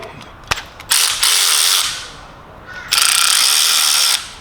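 Ratcheting wrench tightening thermostat housing bolts on a 2002-2009 Hyundai Getz with a G4EE/G4ED engine, heard as two sustained bursts of close, loud rapid clicking separated by a short pause, with a few lighter clicks before them.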